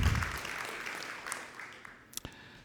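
Applause from the audience at the IUGG 2019 closing ceremony, fairly quiet and tapering off over a few seconds into scattered final claps.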